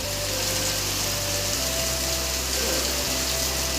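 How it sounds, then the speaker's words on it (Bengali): Rainwater overflowing from a full water tank during heavy rain, a steady close gushing rush with a low constant drone underneath, no voices. "চৌবাচ্চা দিয়ে জল বেরিয়ে যাচ্ছে তাও দেখো জলে ভরে গেছে"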